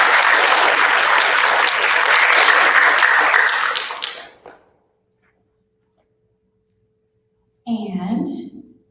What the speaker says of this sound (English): but give him another round of applause.